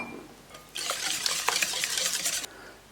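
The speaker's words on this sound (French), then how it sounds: "Ensuite, on met le beurre fondu. On mélange." Cake batter with melted butter being stirred in a bowl, a brief dense run of wet, clicking mixing strokes lasting under two seconds, close and fairly loud, with quiet before and after.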